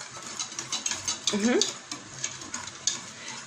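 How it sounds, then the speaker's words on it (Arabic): A spoon stirs thick béchamel sauce in a pot, with soft scraping and bubbling sizzles, quiet and close. "وتفضلي تقلبي بقى لغايه ما قوامه يبقى عامل زي المهلبيه كده"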